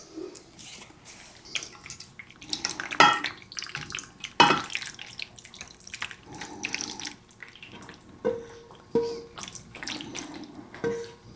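Cheeseburger pasta casserole poured from a pot into a small casserole dish, about 5 by 7 inches: a series of wet plops, slops and scraping clinks of a utensil against the cookware, with pauses between the pours.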